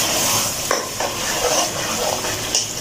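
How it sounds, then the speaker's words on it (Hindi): Tomato paste frying with browned onions in a pot, a steady loud sizzle with several scraping stir strokes and light clinks of the spoon against the metal. "इसको भूनते हैं, तकरीबन 2-3 मिनट भूनते हैं"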